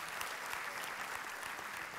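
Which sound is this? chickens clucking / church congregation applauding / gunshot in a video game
church congregation applauding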